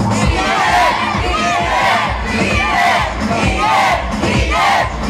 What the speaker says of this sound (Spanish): antes vamos a gritar cinco veces todos